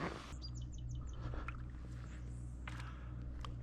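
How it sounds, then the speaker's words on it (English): A red-winged blackbird sings by an Idaho river in spring, with several short bright calls and trills over a steady low rush of flowing water, fairly faint and distant. "The sound of the red-winged blackbird."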